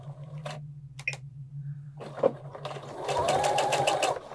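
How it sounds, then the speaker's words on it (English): A sewing machine stitches a quilt binding seam: a few short taps first, then a sustained close, steady whirring run of rapid stitches over a low electrical hum. "I'm going to do a couple stitches and then a back stitch."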